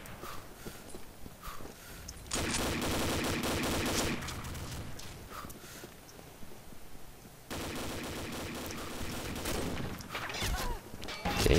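Bursts of automatic gunfire in Combat Arms come in two sustained loud stretches, separated by quieter gaps filled with lighter clicks and footsteps; no voices are heard.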